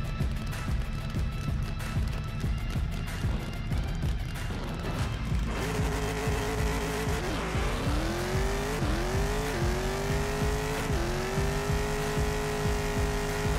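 A Pro Mod drag car roaring through a full pass in a drag racing video game, a loud sustained engine with a rough launch, then rising pitch sweeps as it shifts through the gears, with no talk over it.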